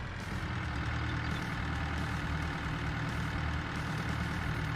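A heavy truck with a Cummins engine idles in Farming Simulator 22, a steady, low, rumbling drone that holds constant and fairly quiet throughout, with no voices.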